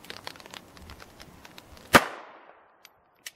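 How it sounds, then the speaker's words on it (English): A single loud, sharp crack from a .380 Beretta 85F pistol fired double action at a shooting range, with a short decaying echo and a couple of faint clicks afterward. "we're just going to work the double action trigger through 4 or 5 shots and see how we do with our target downrange"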